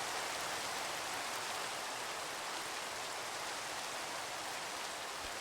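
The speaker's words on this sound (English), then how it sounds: "Rain again? Didn't we just have rain?" Steady rain in the Minecraft game during Skyblock play, a dense, even hiss of falling drops that runs unbroken and at constant level from start to finish.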